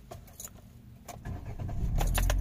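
A 2018 Kia Picanto with a check-engine fault and unsteady idle: keys jangle first, then the parked car's engine cranks, catches and settles into a building idle, close by.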